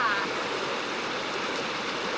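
Flowing water of Roaring Fork Creek on the Roaring Fork Nature Trail, an icy mountain stream, rushes steadily and close by as a broad continuous wash, with a brief faint voice at the very start.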